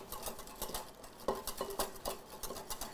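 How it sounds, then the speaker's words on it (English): A whisk beats a warm vanilla sugar mixture into eggs in a bowl, a steady, quick patter of light metallic taps and swishes with a few louder clinks against the bowl, close and moderately quiet, with no talking. "So by slowly adding it and whisking, I'm just gently raising the temperature of the eggs."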